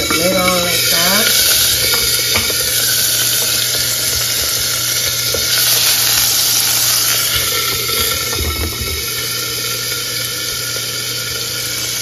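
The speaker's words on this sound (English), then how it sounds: "I can hear that it's warming up and it's sizzling" Veggie soup warms in a lidded pot, a steady close sizzle and hiss with faint bubbling running throughout, a few clinks from stirring, and a voice talking briefly over it early on.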